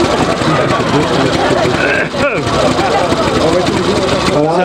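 Vintage two-cylinder 450 cc car engine running, a continuous rough mechanical drone heard close up and steady throughout, with people talking over it.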